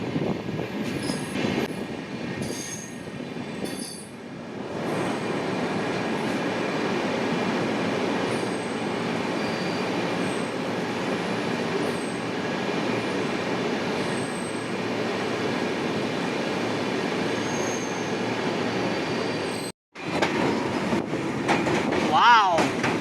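A train creeps along at about 10 km/h near Sevoke, heading toward the Teesta bridge, its steady close rumble and wheel noise running throughout and briefly cutting out near the end.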